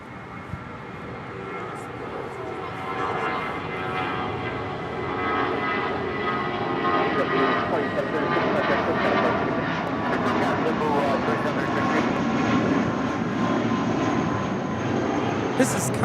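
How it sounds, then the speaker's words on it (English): A 17-year-old JetBlue Airways Airbus A320 departs Los Angeles International Airport for San Francisco. Its jet engines give a broad, steadily building roar that grows louder across the whole stretch, with no other sound standing out. "This is Company Blue departing to San Francisco on a 17-year-old A320 with JetBlue Airways"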